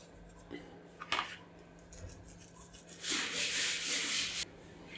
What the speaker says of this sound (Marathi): हे पीठ एकत्र सगळं मिक्स करून घ्यायचं